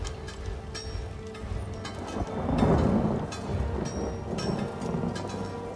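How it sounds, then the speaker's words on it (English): A thunderstorm in Elder Scrolls Online, with steady rain and a swelling rumble of thunder peaking around the middle, plus scattered sharp crackles, and no voices. "Yeah, that is a righteous storm."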